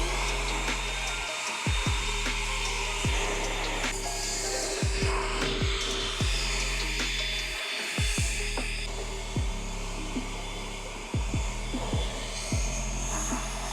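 Air blower drying a car's exterior after a wash, a loud continuous whooshing roar with recurring low pulsing swells as the nozzle sweeps across the body panels, steady and close throughout.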